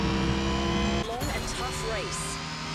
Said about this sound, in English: they went all out on giving this car really weird sounds